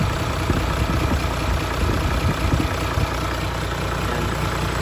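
An Isuzu Forward dropside truck, a Japan surplus unit, with its engine idling: a steady, close, low diesel chug with a continuous rumble and no voices.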